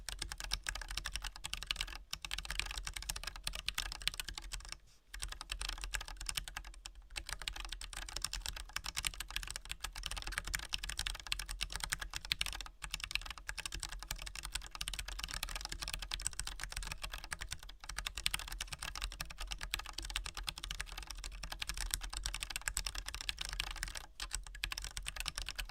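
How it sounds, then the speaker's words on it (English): Steady, fast typing on a prototype ScottoWing split keyboard fitted with T1 switches, dense keystroke clicks running continuously with only brief pauses, close and clear with no talking. "Let's get a typing test."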